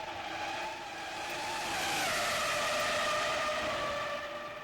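A Formula One car at the 2001 Monaco Grand Prix free practice roars through the Monaco tunnel, a sustained high-pitched engine whine that swells and echoes, peaking midway, with no talk over it.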